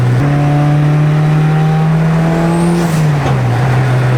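Turbocharged Honda Civic pulling hard under boost, with a loud, steady engine drone whose pitch climbs and then dips briefly near the end as it shifts or lifts, continuous throughout with no talking.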